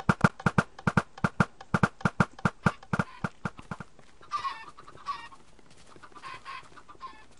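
Chickens cluck in the Minecraft game, a rapid run of sharp, loud clucks in quick rhythm that thins into softer scattered bird calls and low ambience.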